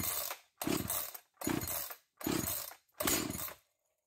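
A chainsaw that has sat unused for months is pull-started over and over, five loud rasping cord pulls in an even rhythm with the engine catching in a brief pop.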